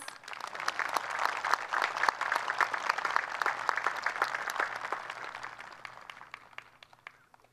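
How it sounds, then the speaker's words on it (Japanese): A seated audience at an Okinawan karate day commemorative demonstration festival applauds steadily for several seconds, a dense even patter that slowly thins and fades at the end. "全員で拍手をお願いいたします"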